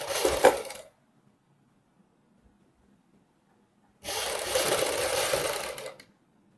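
A sewing machine stitching a strip along lace on a suit neckline: a short burst of rapid whirring stitches, a pause of near silence, then a longer steady run of close, loud machine stitching, no talking.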